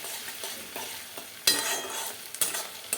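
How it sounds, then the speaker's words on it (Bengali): Onions and ginger-garlic paste frying in a pan for chili chicken, stirred with a few sharp scraping strokes over a continuous bright sizzle, close up, with no voices. "ভালো করে নেড়ে নিতে হবে যতক্ষণ আদা রসুনের কাঁচা গন্ধটা চলে যায়"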